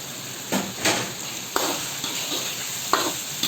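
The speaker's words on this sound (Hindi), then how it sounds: "यानी एक तरह से ऑयल और टमाटर के अंदर भून लिया है आलूओं को" Potatoes frying in oil with tomatoes on a stovetop for aloo palak, with a steady close sizzle and several sharp scrapes and knocks of a spoon stirring the pan, no talking.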